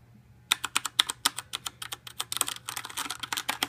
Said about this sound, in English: the sound of this keyboard is